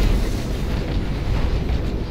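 A Nova Cannon shot explodes in the space strategy game Battlefleet Gothic Armada, a dense, sustained rumbling boom that fills the whole moment with low roar and no talking.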